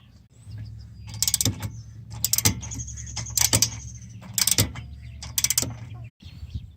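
Bolts on the front brake caliper of a 2008 Mazda 3 being loosened, likely with a 17 mm wrench: a string of sharp metallic ratcheting clicks in short bursts over a steady low hum, close to the microphone.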